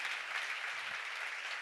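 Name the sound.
audience applause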